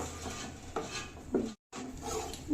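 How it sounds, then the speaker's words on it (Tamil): A spoon stirs a Mysore pak mixture in a pan, a close, continuous scraping and rubbing with a brief pause before the scraping resumes. "நல்லா அந்த கங்கு உள்ளதெல்லாம் எடுத்து விட்டு நல்லா கிளறி விடுங்க"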